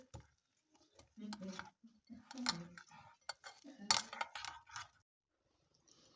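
Muffin batter made with oats and cocoa is stirred in a bowl, giving light scraping and clinking of a utensil against the dish in irregular bursts, faint and close, while a person talks intermittently.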